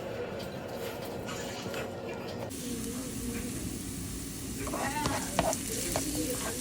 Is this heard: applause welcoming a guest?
no